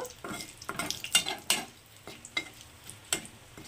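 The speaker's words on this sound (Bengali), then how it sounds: "তো মশলাগুলো সামান্য একটু ভেজে নেব।" Bay leaves, dried chillies and whole spices fry in hot oil with a low, steady sizzle, punctuated by several sharp clinks and scrapes of a spoon stirring against the pan.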